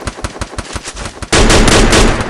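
An M60 machine gun fires in a mobile battle game, first in spaced rapid bursts, then a dense, loud continuous stream of shots close up, with no talk over it.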